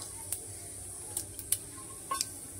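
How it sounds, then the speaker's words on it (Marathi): Cumin seeds crackle in hot oil with a soft continuous sizzle and a few quick sharp pops, heard close and fairly quiet, with no voices. "तेल छान गरम झालंय मैत्रिणी, इथे तेलामध्ये जिरं टाकूया, आणि जिरं छान फुललं"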